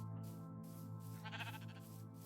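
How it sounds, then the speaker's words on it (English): Sheep bleat faintly in the Minecraft video game, a single brief wavering call sitting under steady background game music. "Sheep? There's sheep."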